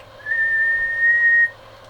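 A single steady whistled tone, about a second long, is sent into a microphone to test a Heathkit SB-200 linear amplifier with dual 572B tubes. It is loud, clean and close, with no talk.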